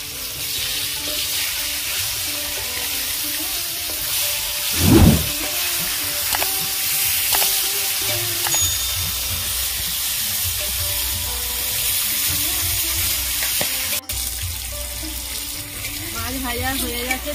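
Black carp pieces, turned over in a wok, keep frying in hot oil with a dense, continuous sizzle, broken by a few sharp clinks of a utensil against the pan and a brief scraping burst.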